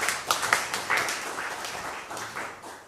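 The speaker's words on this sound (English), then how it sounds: "So let's give that Avatar a round of applause." A small group at an annual meeting claps briefly: a few uneven, fairly soft claps at first, then a short patter that thins out and fades within three seconds.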